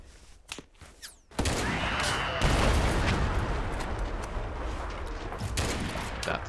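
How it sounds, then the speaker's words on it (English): A bazooka shot in the video game Mud and Blood fires with a sharp blast, then a sustained roar of explosions and gunfire rolls on for several seconds, preceded by a few quieter pops. "bazooka shot"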